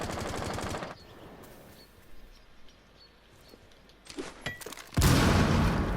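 Shotgun gunfire in a competitive Rainbow Six Siege esports league match: loud, rapid bursts of shots open and close the moment, with quieter game ambience and a few scattered sharp reports between them and no voices.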